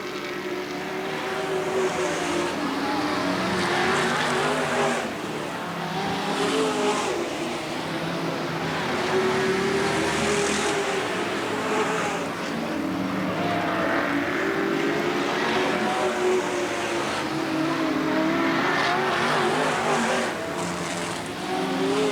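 Race cars roar around Riverside Speedway during a 1990 main event, one car closing to lap slower cars; dense, continuous loud engine drone with shifting pitch as cars pass, no talk.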